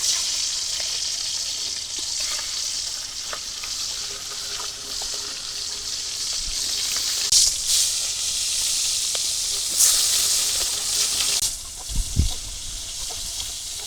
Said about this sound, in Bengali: তেল গরম হয়ে গেছে মাছ ভাজা বসে দিলাম